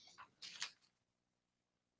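A short burst of coughing or sneezing breaks out at the start, a few quick bursts, then silence until a sudden loud noise at the very end.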